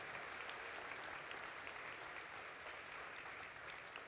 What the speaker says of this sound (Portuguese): Então, palmas à FEEGO também,